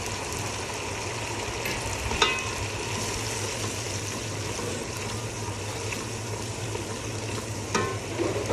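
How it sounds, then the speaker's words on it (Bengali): Chicken korma with yogurt sautéing in a pan, a steady close sizzle with a low hum beneath and occasional scraping stirs, no talking. "অল্প অল্প দিব আর কষাতে থাকবো"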